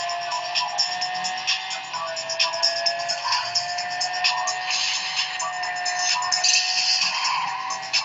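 Car racing in the Asphalt video game played on an Infinix X450 phone, a steady engine whine with skidding tyre noise and bursts of game effects through a small speaker.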